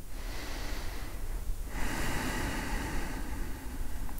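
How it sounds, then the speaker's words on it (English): A person doing yoga takes slow, deep breaths, with a long, airy inhale and exhale close to the microphone and no talking. "Let's take 2 more nice and slow breaths."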